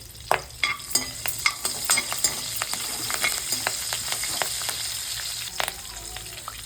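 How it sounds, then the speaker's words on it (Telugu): Curry leaves dropped into hot oil in a pan sputter and crackle loudly up close, with a dense run of sharp pops and spits over a continuous frying sizzle and a few stirring clicks, no voices. "దీంట్లోకి అయితే కొంచెం కరివేపాకు కూడా అయితే వేసుకుందామండి"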